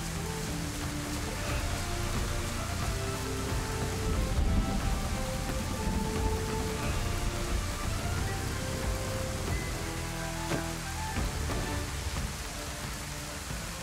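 Steady rain in the survival game DayZ, a dense continuous hiss of rainfall on surfaces at even loudness throughout, with faint tonal game sounds mixed in and no talking.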